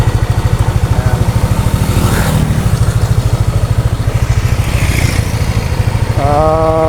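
A motorcycle engine idles close by with a loud, steady, throbbing putter that holds throughout, briefly joined by a faint tonal whine near the end.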